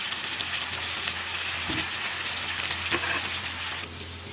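Chicken frying in a pot for biryani as ginger-garlic paste is stirred in, giving a steady close, loud sizzle with faint stirring scrapes and no talk.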